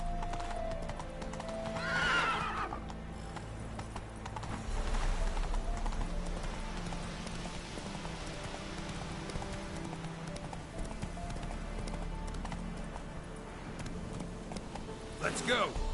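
Hooves of the horse Roach clip-clop at a gallop in The Witcher 3 video game, a steady rhythmic beat running throughout with neighs and whinnies breaking in, game music and voices underneath.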